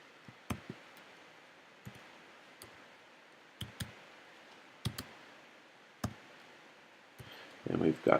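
Calculator keys pressed one at a time while working a statistics slope calculation, giving about a dozen sparse, sharp clicks spread irregularly, with a brief rustle near the end.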